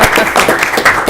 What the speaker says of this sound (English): that applause was not just for the float, that was also for you